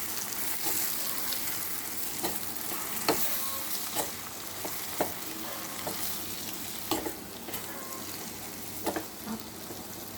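Capsicum with roasted gram and peanuts frying in a pan as they are stirred together, with a soft continuous sizzle broken by sharp spatula taps and scrapes.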